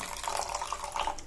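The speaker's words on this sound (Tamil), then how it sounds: "கொஞ்சமாக தண்ணி சேர்த்துங்க" Water pours steadily into a pan of sugar and cooked rice with a continuous splashing rush, close by and with no talking.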